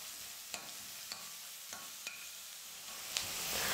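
Onion and curry leaves fry in a pan for kothu parotta, a steady soft sizzle broken by several sharp clicks of a stirring spoon, with the frying swelling louder toward the end.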